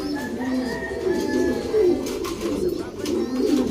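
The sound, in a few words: pigeons cooing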